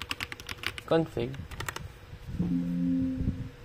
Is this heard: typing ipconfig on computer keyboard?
yes